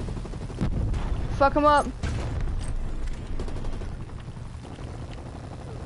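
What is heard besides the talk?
gunship gunfire in a video game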